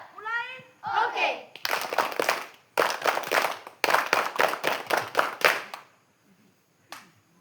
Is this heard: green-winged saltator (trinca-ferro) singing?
no